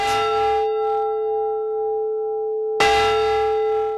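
A large church bell strikes, its deep tone ringing and sustaining, then is struck again loudly, the resonant hum lingering between strikes.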